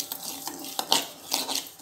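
A spoon scrapes and taps through semolina (rava) being stirred and dry-roasted in a pan for rava kichadi, with quick irregular clinks and soft scraping, close and fairly quiet.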